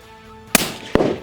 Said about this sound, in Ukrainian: Заряджаємось і пробуємо виконати постріл.